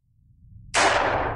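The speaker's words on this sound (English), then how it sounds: "A gunshot? There must be people awake here." A single loud, sharp gunshot bursts out of near silence in the stealth video game The Sandman, its bright crack and wide noisy tail ringing on over a low ambient rumble.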